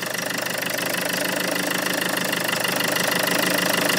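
A Land Rover Freelander 2 engine idles steadily after starting, a continuous mid-pitched hum with a faint rhythmic knock running through it, fairly close and alone with no talk.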